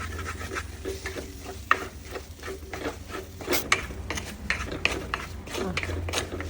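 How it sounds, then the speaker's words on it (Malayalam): Spice powders including fenugreek dry-roast in a pan for a Kerala coconut-milk fish curry, with a spatula scraping and tapping in irregular bursts over a low steady hum. "കുറച്ച് ഉലുവാപ്പൊടി, ഇതെല്ലാം കൂടെ മൂപ്പിക്കും"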